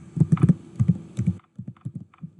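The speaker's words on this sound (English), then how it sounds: "Now I'm going to get started typing my name" Fingers tap out a name on a computer keyboard, a quick run of distinct clicking keystrokes followed by a few slower, softer taps, close and clear with no voices.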